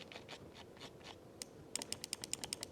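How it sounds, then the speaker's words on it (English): Scroll wheel of a Keychron M3 wireless mouse: a few soft scraping rolls, then one sharp click followed by a steady run of about ten crisp, close wheel clicks. "And clicking of the scroll mouse."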